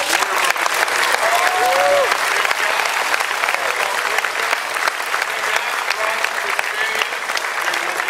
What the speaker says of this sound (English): give a little round of applause to Mattel